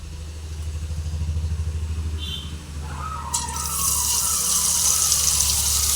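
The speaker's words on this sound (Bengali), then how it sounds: "কড়াইতে তেল দিয়ে দিয়েছি তেল গরম হয়ে গেছে এক এক করে ফুলের জন্য তেলের মধ্যে দিয়ে দিচ্ছি" Mango fritters (aamer bora) dropped into hot oil in a wok, a steady low rumble turning into a loud, bright, continuous sizzle partway through as the batter hits the oil, with no talking.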